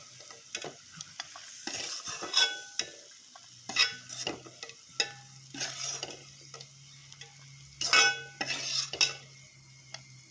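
A metal spoon stirs and scoops fried raisins out of hot ghee in a pan, giving scattered scraping clinks and soft bubbling sizzle, fairly quiet and close, with no talking.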